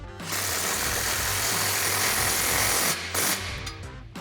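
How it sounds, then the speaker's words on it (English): An impact wrench with an extension and 15mm socket tightens an aftermarket exhaust clamp on a 2024-2025 Tacoma, giving a loud continuous rattling buzz for about three seconds, then a short second burst, close up. "we'll grab our impact, extension, and 15mm socket and tighten that down"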